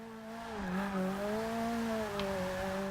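Forza Motorsport 6 drift car holding a slide, engine note wavering up and down with a steady tire squeal layered on top, close and continuous for a few seconds without talk.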